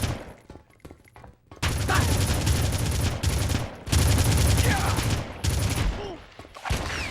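Full-auto gunfire from a PlayStation 2 shooter comes in long loud bursts separated by short gaps, with game sounds and faint talk in the quieter moments.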